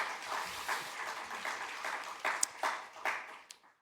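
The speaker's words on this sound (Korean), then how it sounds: "박수 한번 하겠습니다." A small gathering at a Korean theological university chapel service claps to welcome a visiting seminary president, soft, sparse handclaps with a few distinct louder claps that fade out toward the end.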